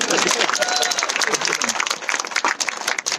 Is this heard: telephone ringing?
no